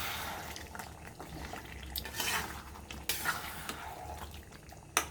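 Chicken kosha being stirred in a pan, with repeated scraping and clinking of a utensil against metal over a soft background sizzle, close and continuous.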